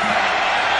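A Rose Bowl football crowd of 51,000 roars in a brief, loud, dense wash of noise with no break.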